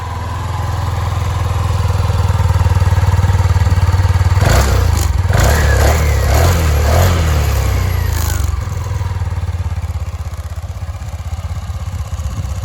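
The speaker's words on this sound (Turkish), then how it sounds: "Motoru bir çalıştırayım sesini de duyun." A small 50cc motorcycle engine, an RKS Icon 50 ST, cranks and catches, revving briefly with clattery bursts, then settles into a steady low idle, close by with no talking.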